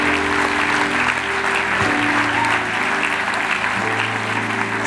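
Sustained applause from a church congregation fills the space, a dense continuous wash of clapping at steady loudness with a low murmur and tonal hum beneath it throughout.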